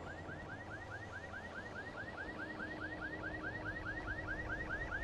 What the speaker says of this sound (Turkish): Araba alarmları, malum korku öğeleri.